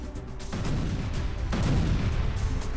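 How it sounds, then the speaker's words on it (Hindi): A Ukrainian Bohdana self-propelled howitzer shells Russian front lines, heavy booming blasts at roughly one-second intervals over a constant low rumble, with sharp reports standing out amid the din. "सेल्फ प्रोपेल्ड होवित्जर बोहदाना की नॉन स्टॉप शेलिंग"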